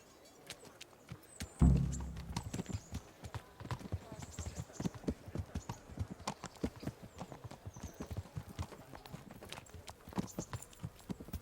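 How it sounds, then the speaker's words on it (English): Horse hooves clip-clop steadily during a ride in the medieval game Kingdom Come, with an irregular stream of close, distinct hoof strikes, a heavier thump near the start, and faint background ambience. "Alright, it's been a while since we've ridden a horse."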